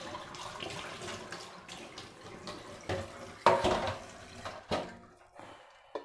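Tap water runs while roselle hibiscus is washed clean, a steady close splashing stream with louder bursts as the leaves are handled, ending abruptly.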